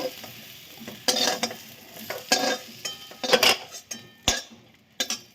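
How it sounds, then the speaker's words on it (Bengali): Fish sizzles in hot oil, punctuated by irregular bursts of spatter and scraping as the pan is stirred, with occasional metallic clinks. "মাছটা ভাজা করে নিই।"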